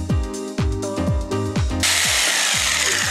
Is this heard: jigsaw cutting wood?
yes